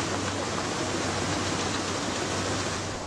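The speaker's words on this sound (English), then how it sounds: "The rushing Laza River below flows to the Bailong River tens of kilometers beyond." The rushing Laza River flowing through a valley in Têwo County, a dense, steady roar of churning water filling the whole clip at an even level, with no voices over it.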